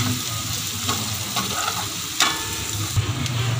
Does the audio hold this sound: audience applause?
no